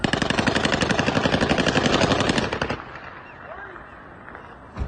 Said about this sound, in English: we also were able to see some gunfire that broke out in Erbil today